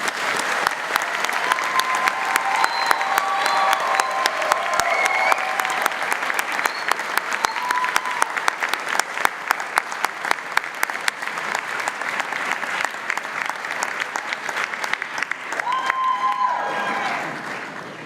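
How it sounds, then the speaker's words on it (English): Loud, sustained applause from a large crowd at a Murdoch University graduation ceremony in Dubai, steady clapping that continues throughout and tapers slightly at the end. "join me in a congratulatory round of applause for our graduates"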